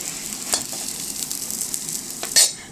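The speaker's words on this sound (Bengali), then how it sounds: "সজনে ডাঁটাটা ভাজা হয়ে গেছে আমার," Drumstick stems fry with a steady close sizzle in a pan, broken by a couple of brief stirring scrapes, with no talking over it.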